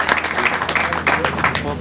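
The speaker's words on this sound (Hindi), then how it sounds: "हम सभी छात्र तालियों से उनका स्वागत करते हैं" Students applaud to welcome a guest at a sit-in protest, a crowd of hands clapping in quick, uneven bursts nearby while a voice talks over the applause.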